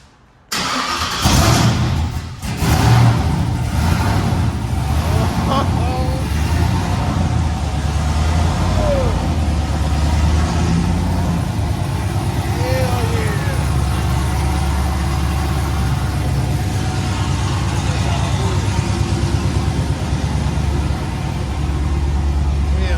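A fully built Chevrolet Trailblazer SS truck cranks briefly, fires up and then settles into a loud, steady, rumbling idle that stays close and continuous for a long stretch.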